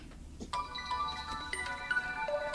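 A cellphone ringtone plays a bright melodic sequence of beeping tones, moderately loud and close, after a brief quiet start.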